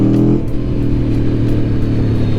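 A 2021 Aprilia Tuono V4 Factory motorcycle's V4 engine revs loud and close, a steady heavy throb with strong low harmonics that shifts slightly in pitch as the throttle opens, with no talking over it.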